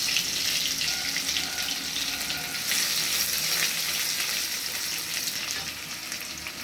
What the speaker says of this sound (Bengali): আমি রসুন ফোড়ন দিলাম